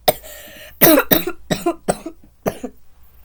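A string of about six sharp, harsh coughs in quick succession, close and loud, with brief gaps between bursts.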